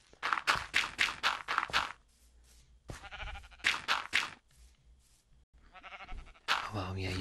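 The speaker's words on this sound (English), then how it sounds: "Hello, sheep. Again." Sheep in the video game Minecraft bleat in quick repeated cries, loud and close, with short pauses between bursts and a person talking nearby.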